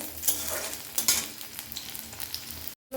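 Tomato and onion sizzle and fry in a pan while being stirred, with a continuous close hiss and occasional scraping stir strokes, no talking.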